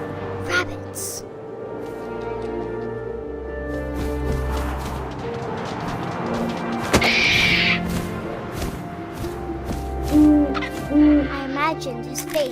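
Owl hooting in the video game What Remains of Edith Finch, soft repeated hoots over a windy ambient game soundscape with faint scattered effects.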